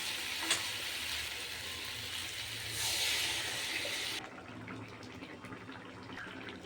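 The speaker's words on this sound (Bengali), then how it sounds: "যে মশলাটা বেটেছি তার যে জলটা বেরিয়েছে সেই জলটা এবার দিয়ে দেবো।" Spice water from freshly ground masala splashes into a hot pan of frying ridge gourd, a soft pour over steady sizzling that cuts off partway, leaving quieter frying.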